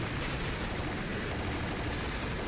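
Rapid machine gun fire in Umbrella Chronicles, a continuous dense loud rattle of shots with no pauses.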